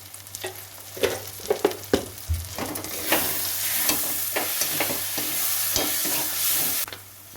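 Spice masala with ground cumin and coriander fries in a pan and is stirred, with repeated close spatula scrapes and taps over a steady, loud sizzle that grows stronger midway, and no talk.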